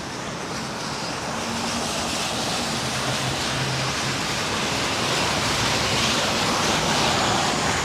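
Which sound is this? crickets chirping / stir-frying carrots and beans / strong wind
strong wind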